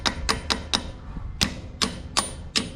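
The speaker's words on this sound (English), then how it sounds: "get our socket on close, and just tap her on there" A hammer taps a socket onto a part of a Farmall tractor, eight sharp metallic knocks close by in an uneven rhythm with a pause in the middle.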